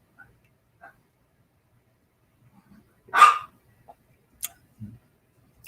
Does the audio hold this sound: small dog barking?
yes